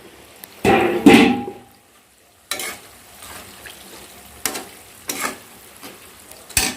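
Malpua sweet pancakes frying in hot oil, a sizzling hiss with a few louder splashy bursts as batter goes in and is stirred, close and alone.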